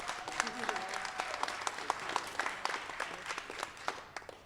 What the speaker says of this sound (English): So let's give Tony a big round of applause.